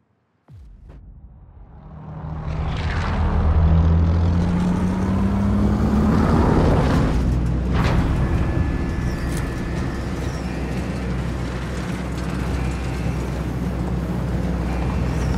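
A vehicle driven in Call of Duty: Modern Warfare starts up after a sharp click, then its engine swells and revs into a sustained, loud drone with shifting pitch as it speeds along for over ten seconds.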